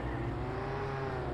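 A car engine in Roblox Jailbreak revs with a steady droning whir and a slowly rising pitch, loud and continuous, with no talk.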